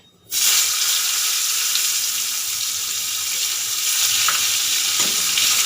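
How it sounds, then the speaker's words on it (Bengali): Black cumin and chopped tomato dropped into hot oil left from frying okra, a sudden loud burst of sizzling after a brief quiet moment, then sustained crackling spatter close by with no talk. "এবারে ফোড়নে দিয়ে দেবো কালো জিরা দিয়ে দেব টমেটো কুচি"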